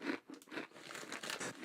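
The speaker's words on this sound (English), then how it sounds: "I have very crunchy potato chips, Chris." Very crunchy potato chips being bitten and chewed up close, a rapid burst of dry crackling crunches in uneven pulses, loud and alone with no talking.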